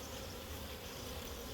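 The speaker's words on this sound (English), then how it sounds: "Look at this, a bunch of happy bees" Honey bees from an afterswarm humming in a hive, a dense, continuous buzz that stays steady and close throughout, with no voices.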